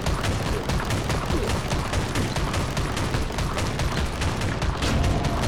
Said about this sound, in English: He just keeps on shooting, doesn't he?